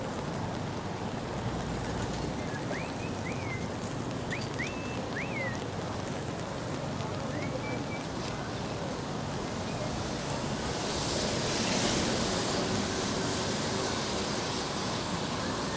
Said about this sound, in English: the rain is really starting to pick up here now